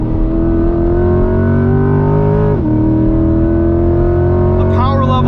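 A 2021 Chevrolet C8 Corvette Z51 engine revs hard toward redline on track, a loud, harmonically rich drone climbing steadily, dropping briefly at a shift, then pulling again.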